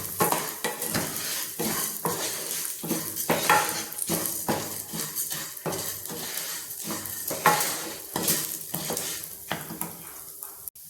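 Urad dal being dry-roasted until reddish in a pan for a turkey berry spice powder, steady close scraping and rattling of a spoon stirring the dry lentils, with a faint sizzle throughout.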